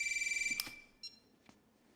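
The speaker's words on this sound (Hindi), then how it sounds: "फोन नहीं उठाओगे क्या?" A telephone rings faintly in a room, a short pulsing electronic ring that cuts off, followed by a few soft clicks and handling noises, with no talking.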